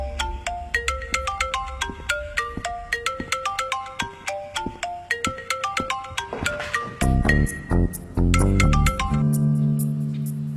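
A phone ringtone plays for an incoming call, a bright electronic melody of quick repeated notes that loops steadily, loud and close, then shifts to fuller, sustained tones at the end with no voices.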